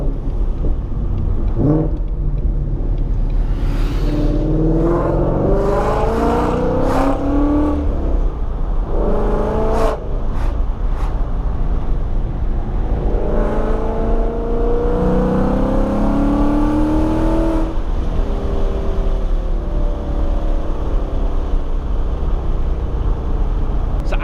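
A 2020 Ford Mustang GT V8 fitted with a Corsa Sport exhaust runs steadily and loud for the whole stretch, with a deep rumble and several rising and falling rev sweeps layered on a constant drone.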